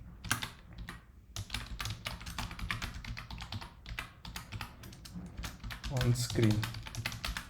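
Rapid, steady keystrokes on a computer keyboard as a scripting command is entered, clicking continuously close by while someone talks over the typing throughout.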